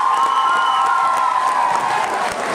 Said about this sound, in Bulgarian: Силни аплодисменти, дами и господа!